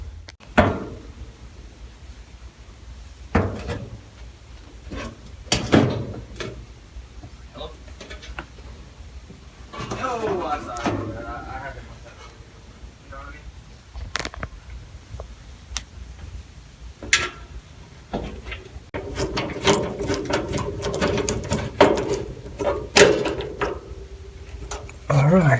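A metal access panel being fitted back onto a gas space heater and screwed in place: scattered clicks, knocks and scraping handling sounds, close by, with bursts of louder rattling near the end.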